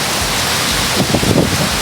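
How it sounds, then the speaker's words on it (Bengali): A rainstorm roars as a dense, loud, unbroken wash of rain and wind, close and constant throughout the short stretch with no voices. "এই দেখুন, ঝড় বৃষ্টি হচ্ছে"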